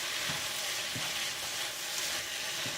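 Ramen noodles and vegetables stirred in a hot pan, with a steady sizzling fry broken by a few soft scraping strokes of the utensil, close and alone.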